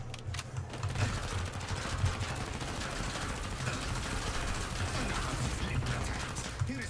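MP5 submachine gun in Killing Floor 2 fires in a steady, continuous rattle of rapid shots throughout, loud and dense with mechanical clatter and no pauses.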